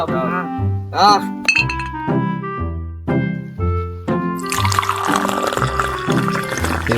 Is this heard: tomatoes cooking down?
no